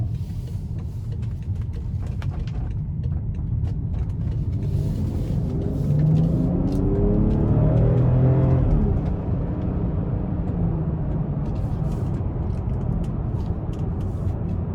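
A 2017 BMW X5 M Sport accelerating in sport mode, heard from inside as a deep engine rumble that swells with rising revs and a gear change, then settles into steady road noise, with no talk.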